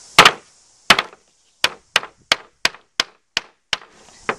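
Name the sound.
hammer striking a plastic toy gun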